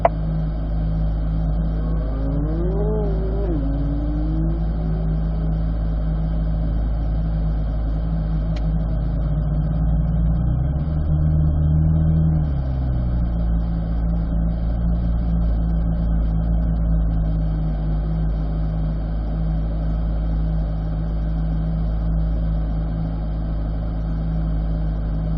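A race car engine on a track drones as a low, steady hum from inside the car, swelling briefly midway as the throttle is squeezed through a corner, then settling back.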